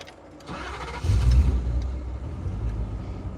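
Car engine starting up: a brief cranking leads into a catch and a louder rumbling idle that settles to a steady, moderately close hum.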